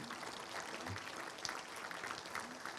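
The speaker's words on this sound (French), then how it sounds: "On peut l'applaudir." Applause from an audience at the opening night of a film festival, as a guest is welcomed on stage: steady, dense clapping from many hands, filling the room at an even level throughout.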